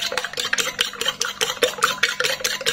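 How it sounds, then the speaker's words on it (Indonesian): Eggs are whisked in a bowl with ground pepper and a pinch of salt, a rapid, even series of close, bright clinking beats from the whisk striking the bowl, with no talking. "Setelah itu kita kocok lepas aja untuk telurnya sampai semuanya tercampur rata ya."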